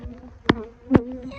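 Honeybees in an open hive during winter preparation give a steady low buzzing drone, broken by two sharp knocks close to the microphone.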